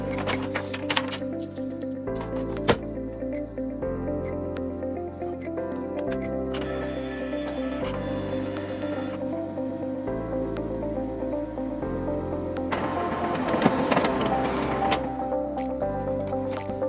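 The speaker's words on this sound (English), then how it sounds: "The scanner completed the task in 17 seconds, which is not good for this printer." An OKI MB562 printer-scanner running a scan from the glass, giving a steady mechanical whir with stepping tonal shifts as the carriage moves, plus a louder buzzing stretch near the end, no voices.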